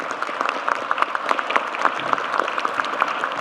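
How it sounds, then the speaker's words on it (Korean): An audience at a town hall meeting in Ulsan applauds, a dense, sustained clapping of many hands at moderate distance, steady throughout without voices. "박수도 한번 쳐주면."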